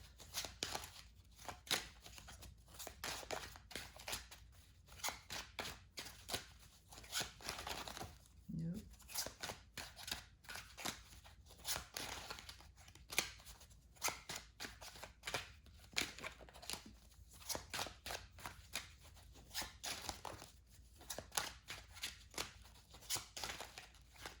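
Tarot cards are shuffled again and again in a quiet room, with soft, rapid riffling and flicking bursts repeating throughout and a faint voice murmuring at times.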